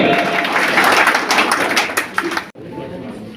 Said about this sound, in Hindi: तो विधान ताली दियो